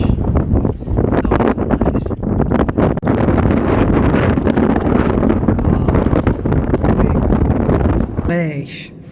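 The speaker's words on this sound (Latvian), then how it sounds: "Te ir koncentrējušies visi pasaules vēji. Man liekas, ka man pūš no visām pusēm." Strong wind at the far tip of Saaremaa island buffets the microphone in loud, continuous rumbling gusts, with a voice briefly audible near the end.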